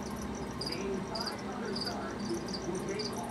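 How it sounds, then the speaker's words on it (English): Steady high-pitched chirping of many crickets in a 10-gallon tank beside a turtle pen, continuous and close, with a faint murmur in the background. "I have on the bottom a 10-gallon tank, which you can probably hear their crickets"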